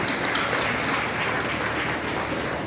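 A hall audience at an education foundation award ceremony applauds with dense, even clapping that holds steady at moderate loudness throughout, with no voices over it.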